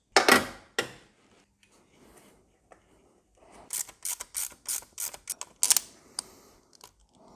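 Quick metallic ratcheting clicks in short bursts, with a few sharp clanks, close by and without talk, as bolts are loosened during cylinder head removal on a Range Rover P38 with a BMW M51 engine.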